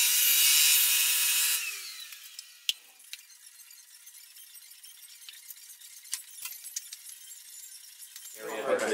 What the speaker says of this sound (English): I'm going to cut it right down, so I can measure it now